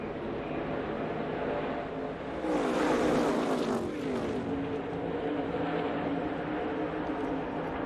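ARCA stock cars race side by side at Daytona International Speedway, a pack roaring past with a loud rising and falling engine surge over a steady track drone, no commentary audible.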